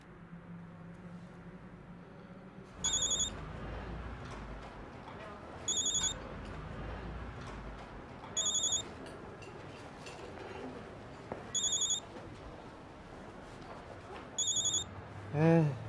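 An electronic telephone ring repeats in five evenly spaced bursts, about three seconds apart, over a quiet indoor room tone. A short musical ringtone flourish follows at the very end.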